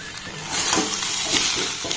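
Raw mango pickle ingredients with salt and black salt stirred in a frying pan, with a soft continuous sizzle and scraping stirring strokes close by.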